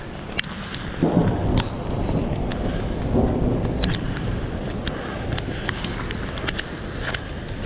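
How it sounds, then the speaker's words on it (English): Steady rain hisses and patters while low rolls of thunder swell twice, with gusts buffeting the microphone, outdoors at Kennedy Meadows. "I'm pretty nervous about the lightning"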